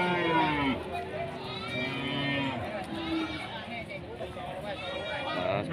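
Cattle low and moo at a busy Indonesian livestock market trading young feeder cattle, with harmonic calls rising over steady crowd chatter and nearby talk throughout.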